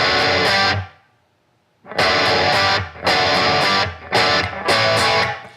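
Thick, distorted, palm-muted electric guitar chords in short bursts, a held chord, a silent gap, then choppy repeated stabs with a buzzy edge.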